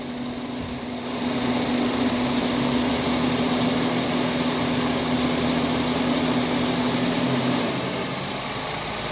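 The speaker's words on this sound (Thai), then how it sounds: "เดี๋ยวขอลองเร่งเครื่องเลยครับ" Honda City engine running with the air conditioning on, a steady hum that rises slightly in speed for several seconds, holds, and settles back near the end.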